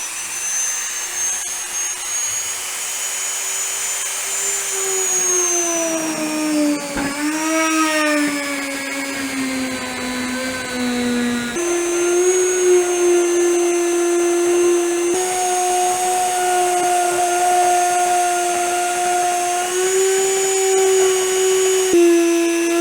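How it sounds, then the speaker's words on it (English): A Dremel rotary tool runs continuously at high speed with a steady, close, whining motor tone, dipping and bogging briefly partway through before recovering, used while building a budget Club Car golf cart. "what I do have is a good old Dremel tool"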